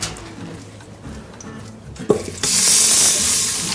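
Lamb shanks browning in an Instant Pot, with a clunk as a piece drops in and then a loud, steady hissing sizzle that swells and holds close up.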